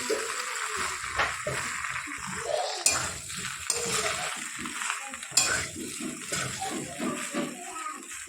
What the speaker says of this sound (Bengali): পাস্তাগুলো দিয়ে সুন্দর করে সব কিছুর সঙ্গে মিক্স করে নেব।